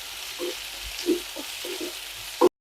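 Onions and tomatoes sauté quietly in a pan, a faint, low sizzle with a few soft stirring knocks and a louder clatter just before it stops.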